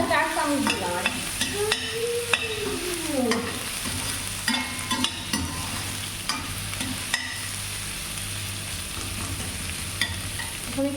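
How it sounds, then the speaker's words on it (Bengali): Ginger and garlic fry in oil for a mutton dish while a spoon stirs and scrapes the pot, giving a steady sizzle broken by clinks and scrapes, with background music and no speech. "তেলের মধ্যে আদা রসুন ভাজা হয়ে গেছে"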